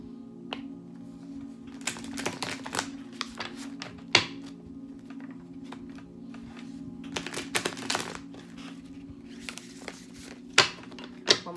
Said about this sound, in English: I'm going to shuffle the cards a couple times